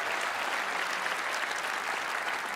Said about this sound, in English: you better applaud for that